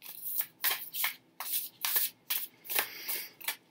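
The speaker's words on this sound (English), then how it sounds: "So I will shuffle until all of these have jumped." A big, heavy deck of tarot cards is shuffled steadily up close, each riffle a soft papery swish repeating in an even rhythm about every half second.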